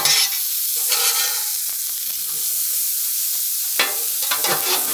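Vegetables fry in peanut oil on a Blackstone griddle for chicken fried rice, giving a steady, close sizzle with scraping spatula strokes and sharper crackles toward the end; nobody talks.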